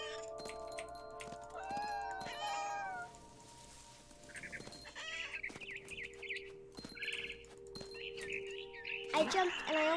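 Meows and chicken-like clucks from the video game What Remains of Edith Finch, in the scene where the player is a cat stalking a bird, heard over a sustained musical score.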